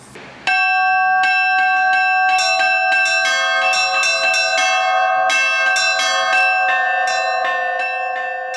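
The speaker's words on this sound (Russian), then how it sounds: "Колокольный звон" Russian Orthodox church bells ring out loudly after a brief quiet start, several bells struck by a bell ringer in a steady, overlapping peal that fills the whole recording.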